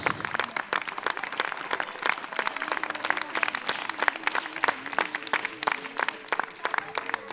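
Enthusiastic audience clapping at a birthday and Ladies Day celebration, a thick, continuous patter of many hands for several seconds, with a soft sustained tone and murmuring voices beneath.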